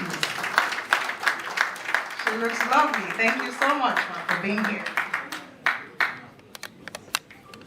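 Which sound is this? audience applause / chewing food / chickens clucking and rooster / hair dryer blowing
audience applause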